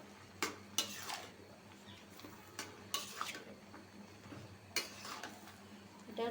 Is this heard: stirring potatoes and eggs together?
yes